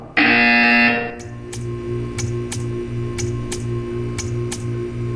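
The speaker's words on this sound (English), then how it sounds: "When you hear the buzzer, stare at the art." A loud harsh electronic buzzer in the Portal 2 video game sounds for under a second, then gives way to a steady, evenly spaced mechanical ticking with a faint hum behind it.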